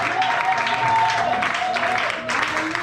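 A church congregation at a spiritual retreat cheers and claps in a steady, dense roar, with a sustained vocal tone running through the crowd noise across the whole stretch.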